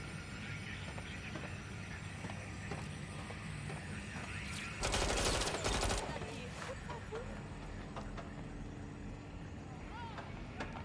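Gunfire in the open-world action game Watch Dogs Legion set in London, a short loud burst of shots around the middle of a noisy scene, with ambient clatter and occasional lighter pops spread through the rest.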